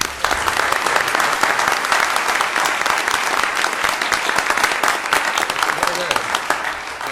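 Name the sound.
board meeting audience applause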